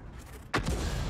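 M44 artillery firing in a video game: one sudden heavy boom that lands mid-clip over a steady low rumble, then a lingering rolling tail.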